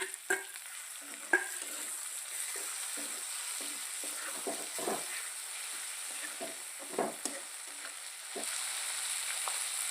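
Tomatoes hit a pan of fried garlic and green chilli for a Maharashtrian green moong curry, sizzling steadily up close while a spatula stirs them with intermittent scraping taps; no one speaks.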